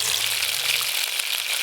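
Strained spice paste hits hot mustard oil tempered with nigella seeds and bursts into a loud, close, even sizzle that holds steady for a short moment, with no voice.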